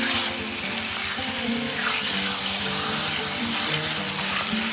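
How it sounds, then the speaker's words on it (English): Mutton chunks searing in a hot pan over full flame for Lucknowi nihari, a loud, steady, hissing sizzle throughout with a low bubbling underneath and no talk. "So you can see the mutton has nicely seared."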